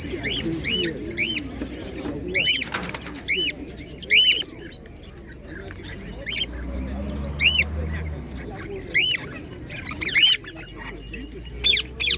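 Parrots give repeated squawks and chirps against a busy background of low murmuring voices and bustle at a large Saturday pigeon market in Tczew.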